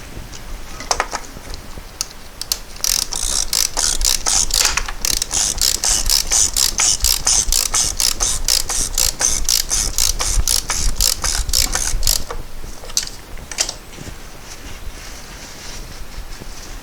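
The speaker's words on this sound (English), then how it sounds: "Let me get the torque wrench." A torque wrench ratchets in a rapid, loud run of clicks for about ten seconds during a VW Golf Alltrack service, followed by a few slower isolated clicks.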